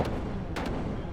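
Jessie's big gun firing in Xenogears, heard as a few short sharp blasts spread over the moment against a loud rumbling background, with no talking.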